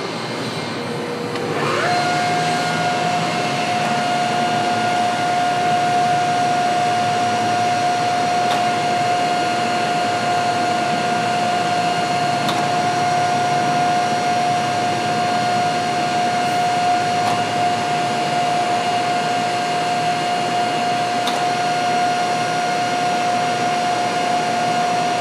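A 5-horsepower H-frame forging press running in auto mode for 5-inch stroke cycles, with a steady loud hydraulic whine and hum holding a constant pitch from start to finish and no talking.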